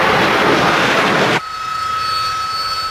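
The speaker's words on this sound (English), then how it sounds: "The reason that the Harrier can perform these incredible maneuvers is its extraordinary engine system." Harrier Jump Jet engine roaring loud and broadband, then cutting abruptly to a quieter steady whine with a high tone for the remaining seconds.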